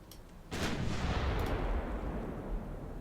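Naval guns fire armour-piercing shells in a Japanese naval war game, one loud boom near the half-second mark rolling into a long, dense rumble that stays heavy to the end.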